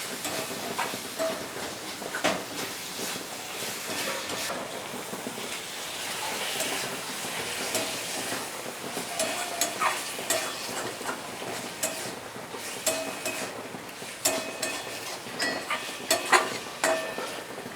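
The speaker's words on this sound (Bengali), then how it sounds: "এবার তেল ছাড়া অবধি আমি একটু ভালো করে কষিয়ে নেব।" Banana flower curry with green chillies and chopped tomato stir-fried in oil until the oil separates, giving a steady soft sizzle with frequent scraping and clinking of a spoon against the pan, moderately close, no talking.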